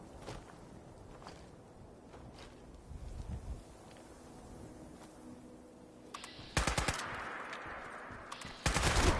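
Short bursts from an automatic weapon in Fallout 76 ring out late, two loud clusters of rapid shots following a quieter stretch of footsteps and distant pops.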